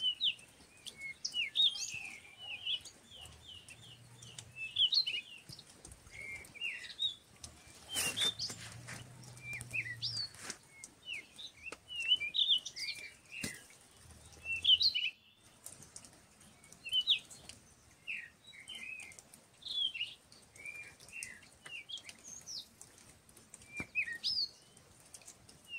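Small birds chirping and twittering in the Bosnian countryside in winter, many short high calls repeating throughout, moderately near, with a brief low rumble and a few soft thumps in between.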